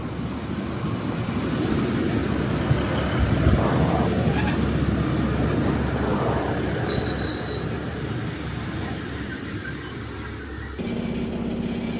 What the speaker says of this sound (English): It's going to be that Class 150 diesel multiple unit again